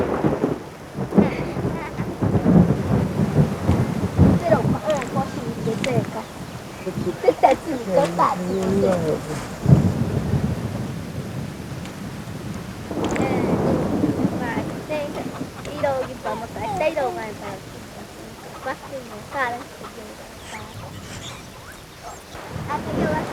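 Thunderstorm in a forest, with rolling thunder rumbles and steady rain throughout, while someone narrates over the storm.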